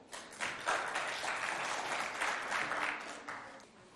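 An audience at a school quiz show between two colleges in Moundou bursts into loud applause for the contestants, a dense, close wash of clapping that holds for several seconds before thinning out.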